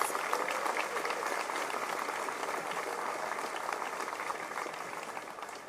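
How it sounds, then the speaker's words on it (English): Audience applause at a university Martin Luther King Jr. Day celebration, honoring programs and sponsors: steady, dense clapping from a sizable crowd, sustained and fairly loud throughout, gently fading toward the end. "Let's give a round of applause for our programs and sponsors."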